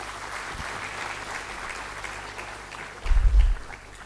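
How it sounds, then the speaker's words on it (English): A seated audience claps steadily at the inauguration of a Times of India education event, Mission Admission 2024, with even, sustained applause throughout and a brief low thump near the end. "please give our speakers and panelists a big round of applause."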